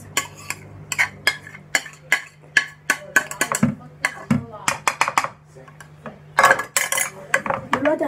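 Metal spoon scraping and clinking against a pot while stirring grilled giant necks with bulgur, a busy run of sharp, irregular clanks and scrapes, close and fairly loud, with speech heard in the background.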